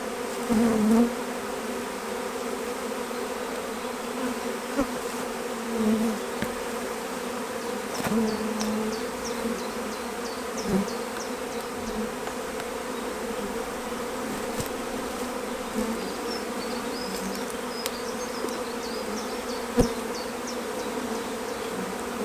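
Honey bees buzzing steadily around an open hive during queen rearing with a Cloake Board, a dense, continuous close drone with occasional louder passes and faint knocks of equipment, no talking.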